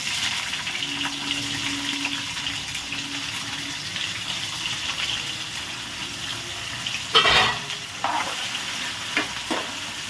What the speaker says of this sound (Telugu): ఆనియన్స్ ఇలా ఫ్రై అవుతా ఉందని చూసారు కదా